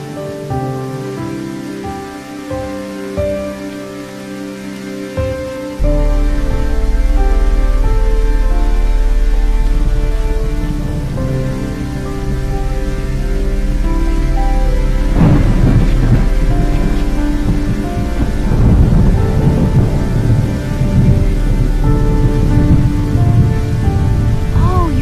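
Steady heavy rain pours throughout while thunder rumbles low and close, building into a sustained rolling roar over a village on a rainy day, with faint musical tones layered above.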